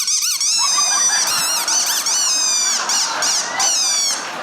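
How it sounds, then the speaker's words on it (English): A rubber squeaky toy's squeaker squeezed over and over, producing a loud run of high, wavering squeaks that rise and dip in pitch with brief gaps between them, close by. "with this squeaker in your mouth, you now have the ability to make anything you want squeak anywhere you go"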